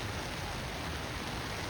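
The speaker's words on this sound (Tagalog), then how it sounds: "Oh, It's pouring now." Heavy rain pours down during an outdoor football game, a dense, unbroken hiss of downpour that is loud and uniform throughout, with no voices over it.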